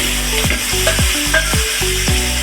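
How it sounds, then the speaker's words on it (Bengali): Chopped onion dropped into hot oil with cumin seeds and dried chili, sizzling and frying steadily up close while a spoon stirs and scrapes the pan in a few rhythmic strokes. "পেঁয়াজটা একটু ব্রাউন করে ভেজে নেব"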